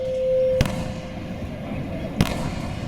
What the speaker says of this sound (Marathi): नाही ते एक लावले ते सगळे फुटल्याशिवाय थांबत नाही